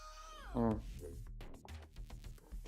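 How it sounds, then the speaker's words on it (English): Cats make noise in a room upstairs, with one drawn-out, falling meow-like cry followed by faint, muffled thumps and rustling in a quiet indoor space. "I hear my cats practicing jujitsu upstairs."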